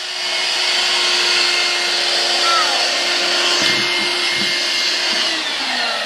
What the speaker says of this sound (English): Did you have fun vacuuming?